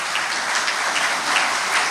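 Steady, dense applause from an audience welcoming guests on stage at an award ceremony, a continuous wash of clapping that fills the whole moment with no voices over it.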